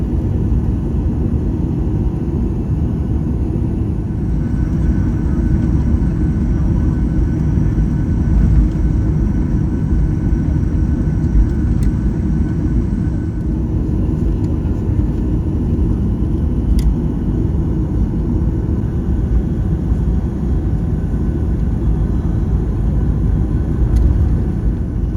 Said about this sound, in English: Cabin crew, be seated for takeoff.